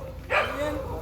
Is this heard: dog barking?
yes